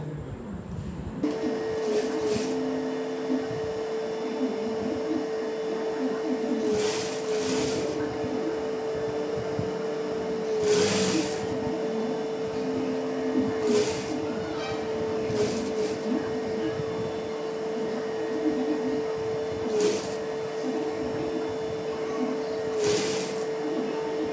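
A sewing machine stitches round the neck of a chudidar, running as a steady mechanical hum with a sustained whir and brief louder bursts at intervals, carrying on continuously throughout.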